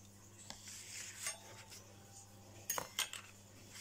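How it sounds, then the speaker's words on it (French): Metal cutlery clinks as pieces are set into an Easter-themed cutlery holder decorated with little butterflies, a few quiet taps followed by a brighter cluster of clinks near the end. "Il ne nous reste plus qu'à prendre nos couverts et à venir les ranger."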